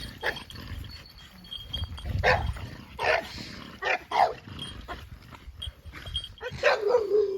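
Several dogs in a garden bark and growl in tense bursts, loud nearby yaps and low snarls coming in uneven clusters over a rumbling background.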